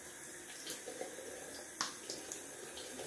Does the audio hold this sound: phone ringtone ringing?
no